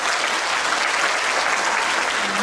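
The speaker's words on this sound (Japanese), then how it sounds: "拍手でいっぱい応援してくださいね" Concert audience at a show clapping in support, a thick, continuous wall of applause at steady loudness with no voices over it.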